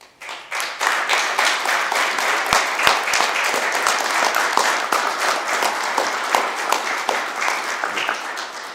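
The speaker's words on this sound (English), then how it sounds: "Thank you for your applause." Applause at a mayor's news conference after a key to the city is presented, a steady patter of many hands clapping close by with sharp individual claps, continuing evenly for several seconds.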